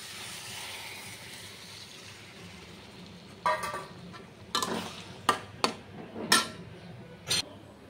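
Fried prawns go into a Bengali ridge gourd and potato curry and are stirred in the pan. After a quiet start come several loud, sharp scrapes and sizzling bursts, spaced unevenly.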